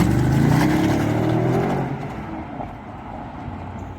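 A 2016 BMW 750i's 4.4L N63R V8 revs loudly up close, holding a high rising whine before dropping back toward a lower idle as it settles.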